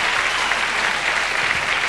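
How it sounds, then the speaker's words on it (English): Television studio audience on a 1987 country music variety show applauding the backing bands, a full, dense, steady roar of clapping close and loud throughout, with no speech over it. "Would you applaud them?"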